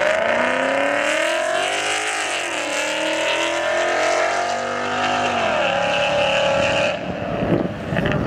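A Dodge Hellcat and a Corvette C6 street racing, engines howling loud and close as rising and falling gear-change tones sweep upward, a sustained high-revving roar that eases and breaks off near the end.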